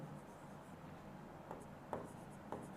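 Chalk or marker writing on a board during an English grammar lesson in a classroom, faint steady scratching with a few brief louder taps, no talk over it.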